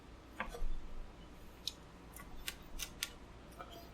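Roast chicken with crispy skin being cut into pieces, a handful of sharp crisp snips and clicks scattered over a few seconds against a quiet background.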